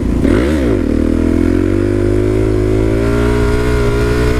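Motorcycle engine revving hard then holding a steady high drone with rising pitch, loud and close throughout, no talking.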